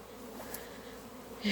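Honey bees buzz faintly and steadily nearby, a soft continuous hum with a brief louder burst at the end.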